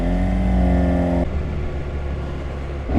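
A 2013 Kawasaki Ninja ZX6R 636 motorcycle roars on the road, engine droning high, then dropping to a lower rumble with wind rush.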